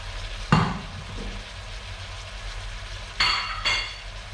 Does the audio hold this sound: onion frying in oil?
yes